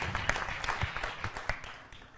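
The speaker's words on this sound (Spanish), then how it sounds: "Los invito a darles un gran aplauso a nuestros emprendedores" An audience at an entrepreneurs' event applauds, scattered claps with a few sharper hand-slaps over a room murmur, fading toward the end.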